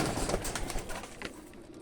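Pigeons from Tonk, a young pair with their chicks, give soft overlapping coos close by against a steady background murmur of bird sounds.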